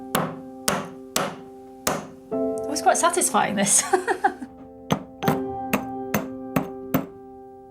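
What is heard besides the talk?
hammering a lump of rock to make pigment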